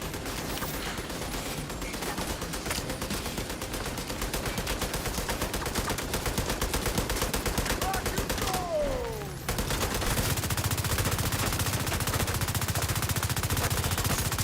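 Heavy gunner enemies unleash sustained machine gun fire in The Division 2, a dense, rapid rattle of automatic shots that runs continuously with a brief break before resuming, loud and close.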